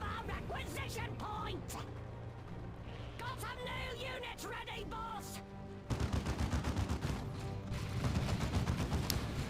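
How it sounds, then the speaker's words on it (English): Razorback gunfire rattles in the Dawn of War II: Retribution strategy game as rapid bursts of shots under a commentator's voice, growing louder and denser in the second half. "I feel like I've been hearing nothing but that Razorback gunfire for like the past 3 minutes."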